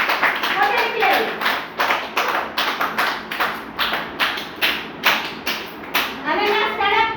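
Children in a classroom clap together for a classmate, a steady run of sharp, fairly close claps that keeps a rhythm over several seconds, with young voices chattering faintly around it.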